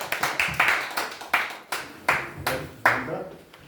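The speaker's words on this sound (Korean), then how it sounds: "모두 박수로 환영해 주시죠" A small audience claps in welcome for an invited lecturer at an indoor talk, producing sparse, distinct hand claps that arrive in uneven bursts and fade between them.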